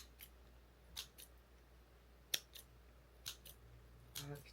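Scissors snipping through kimchi at a meal, a few sharp, close, isolated metallic cuts spaced by quiet pauses, with a quicker crunchy snip near the end.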